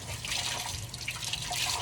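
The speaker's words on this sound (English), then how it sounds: "I just rinse it under warm water, rub it against itself" Warm tap water runs steadily from a faucet while a microfiber cloth is rinsed and rubbed under it, a close, continuous splashing stream with small drips.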